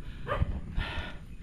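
Two short dog barks on a morning jogging route, a moderately close pair of yaps separated by about half a second, with no voices over them.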